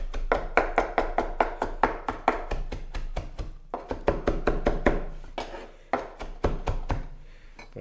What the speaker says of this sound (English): let's chop up some parsley